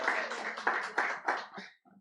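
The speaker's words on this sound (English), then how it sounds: "Round of applause for the soon-to-be" Clapping from a poetry festival audience celebrating a soon-to-be-married couple, a dense burst of hands that swells and fades over about two seconds before dying away.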